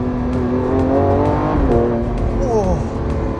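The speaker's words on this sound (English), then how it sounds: "In Corsa mode, those shifts are so violent." Lamborghini Aventador SVJ engine in Corsa mode, loud harmonic drone rising and dropping through sharp, abrupt gear shifts, with someone talking over it.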